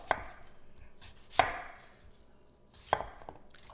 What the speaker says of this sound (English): So I'm going to slice these apples.